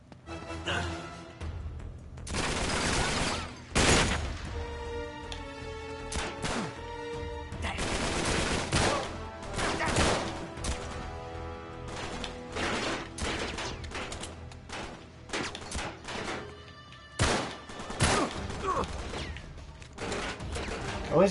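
Gunfire from the video game Uncharted 3 comes as repeated loud bursts and single shots, along with mechanical clatter and game effects that continue almost without a break.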